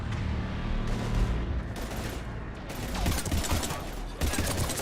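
Sustained gunfire in the video game Mass Effect 3, rapid bursts of shots and impacts layered over a busy battle din, loud and continuous throughout.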